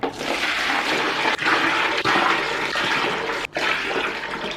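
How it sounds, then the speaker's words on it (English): Cold water gushes steadily into a container to mix wallpaper paste, a loud continuous pour with a couple of brief breaks in the flow, with no voices. "for regular wallpaper, it says I need to add 7 liters of cold water"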